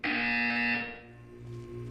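A loud, harsh electronic buzzer in the Portal 2 test chamber blares steadily for almost a second, then a lower droning hum carries on alone.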